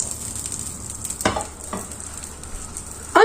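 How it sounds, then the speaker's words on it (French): Butter sizzles softly in a pan as apple slices cook for a French apple pancake, with a couple of sharp stirring scrapes and a louder clatter at the very end, and no voices. "Le beurre sert à cuire les pommes."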